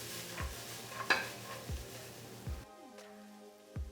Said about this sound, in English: Add in the celery, add in a pinch of salt,